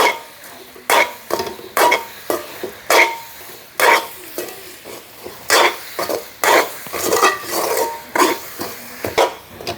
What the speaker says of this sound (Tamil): இதை இப்படி நாங்கள் வளைச்சி விட்டுட்டு கிண்டி கொண்டிருக்கலாம்